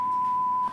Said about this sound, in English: The number's redacted, so that's why we hear the beep.